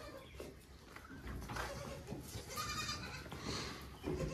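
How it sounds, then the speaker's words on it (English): Baby goats bleat on a farm: faint, scattered high calls repeat over a quiet outdoor background. "baby goats."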